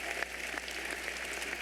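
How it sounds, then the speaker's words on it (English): An audience at the 2018 Richmond Community High School graduation ceremony claps in a sustained, dense round of applause that fills the hall at an even level. "Let's give these dynamic professionals a well-deserved round of applause."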